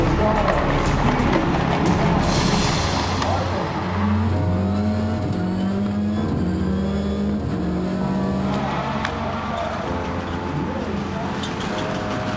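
A Subaru rallycross race car engine roars and revs steadily while driving off, with shifting engine tones and tire noise, loud and close, voices faintly in the background.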